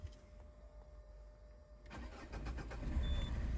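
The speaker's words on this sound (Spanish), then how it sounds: "Vamos a tratar de darle encendido" A Peugeot 307 diesel with a rail pressure sensor fault is cranked and starts, the engine catching and rising into a rough, rumbling run after a quieter moment. No one talks.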